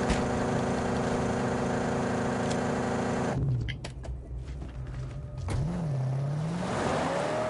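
Car engine in the Mad Max video game droning loudly, then abruptly cutting out as it stalls, leaving a quieter gap before a rising mechanical whine returns.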